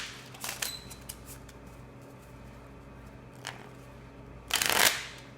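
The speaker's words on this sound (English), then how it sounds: "I'm going to shuffle them." Two short bursts of cards being shuffled, a brief riffle near the start and a louder, longer riffle near the end, with quiet handling in between.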